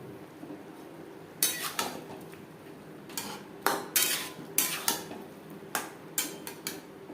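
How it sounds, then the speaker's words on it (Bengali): A spoon or spatula stirring masoor dal with papaya in a pan, with irregular clinks and scrapes of metal against the pan over a steady low background hum. "2 মিনিট পেঁপের সাথে ডাল নাড়াচাড়া করে নেব।"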